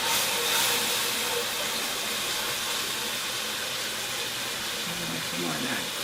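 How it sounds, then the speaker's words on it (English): Steady, loud, broadband hiss of steam rising as chicken broth hits a hot pan while making broccoli cheese soup, continuous throughout, with faint sizzling underneath. "how'd you like that steam effect?"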